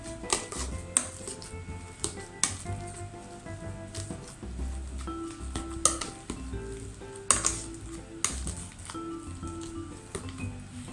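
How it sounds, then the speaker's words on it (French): Mashed potato mixed with a little nutmeg being stirred in a pot for hachis parmentier, quiet scraping and soft thuds of a utensil against the pan in irregular strokes, close and low in level. "Et je mélange."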